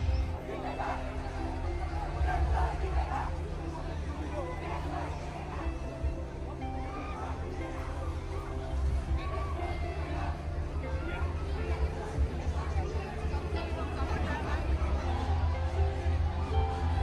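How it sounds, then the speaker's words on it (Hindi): Crowd chatter on the SRM University campus at Kattankulathur during a busy event, a steady babble of many overlapping voices in the open air with a low continuous rumble underneath, held throughout. "आगे बहुत भीड़ है, शायद कुछ प्रोग्राम चल रहा है"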